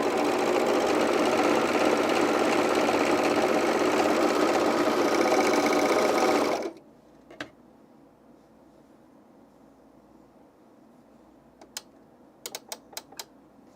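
A serger sewing machine stitches underwear fabric in a fast, dense, steady whir for about six and a half seconds, then stops abruptly. A few faint clicks and taps follow in near quiet.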